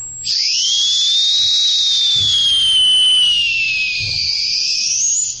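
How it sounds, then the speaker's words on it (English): A sustained, sliding high-pitched dog whistle tone that bends slowly up and down for about five seconds, loud and steady, with faint low thumps beneath. "That's a dog whistle."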